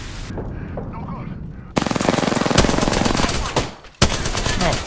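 Loud close bursts of Mozambique shotgun fire in Apex Legends, several rapid blasts in quick succession followed by a sharp single shot after a brief gap, with game effects in between.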